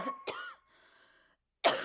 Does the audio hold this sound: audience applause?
no